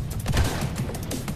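Rapid gunfire from a dinosaur-themed video game, a dense burst of shots packed close together, loud and continuous for a moment with no talk over it.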